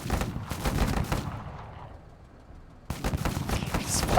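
Rapid bursts of machine gun fire from the video game MENACE ring out loud and dense, then fade to near silence for about a second before another hard, crackling barrage resumes.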